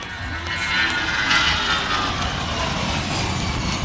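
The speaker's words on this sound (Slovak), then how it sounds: "A teraz nízky prelet na minimále. Držte si klobúky, high speed, low pass, 250 high speed" An Airbus A319 jet roars by in a high-speed low pass at an air show, a loud, close, continuous engine rush that swells and holds for several seconds.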